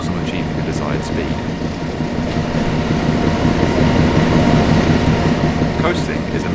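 A train accelerating in the Train Sim World simulator on PS4 Pro, giving a steady loud rumble and rolling drone throughout, with a few faint high squeals and occasional voice-like sounds under the engine noise.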